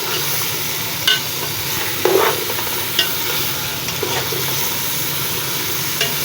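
Cut turnips fry in a pot with a steady hiss of oil while a spoon scrapes and stirs them in short bursts, each stroke adding a soft clatter, and no one speaks.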